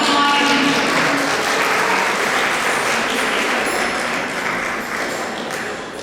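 Sustained audience applause at a hymn concert, steady dense clapping from many hands that gradually tapers slightly toward the end.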